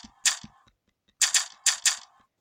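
Shooting in the video game Revenge of the Slimes: sharp clicky shot sounds, two quick ones at the start then four evenly spaced bursts after a short pause, crisp and close against silence, no voices.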